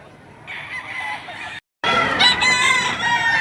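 Rooster crowing at an early-morning poultry market in Padre Garcia, Batangas: two loud, close crows split by a brief pause, with faint background chatter.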